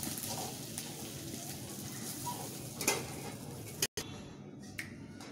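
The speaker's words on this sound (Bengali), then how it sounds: "প্রথমে গোটা গরম মশলা দিয়ে দিলাম, 2 এলাচ, লবঙ্গ, দারচিনি।" Whole garam masala of cardamom, cloves and cinnamon sizzles in hot oil while fish kalia is cooked, a steady close crackle with a few sharp clicks and a brief dropout near the end.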